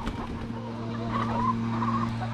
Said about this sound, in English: And then I'll let the chickens out here into the main pen.